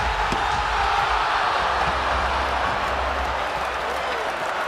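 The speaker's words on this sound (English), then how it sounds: "The crowd on its feet." An NBA basketball arena crowd, San Antonio Spurs versus the Atlanta Hawks in the final minute of a game, roars loudly and continuously, with applause, sneaker noise and a commentator talking over it.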